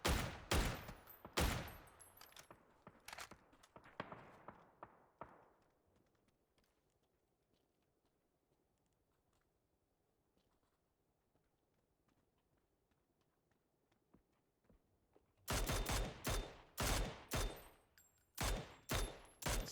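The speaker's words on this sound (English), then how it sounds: "More shots coming out by Banana Bomb." Sharp gunshots in a PUBG match, a fast string of loud cracks that fades into near silence, then a second cluster of close, rapid shots near the end.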